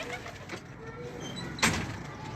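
Pet pigeons coo faintly in a backyard loft, low murmuring calls with a brief knock partway through and quiet talk nearby.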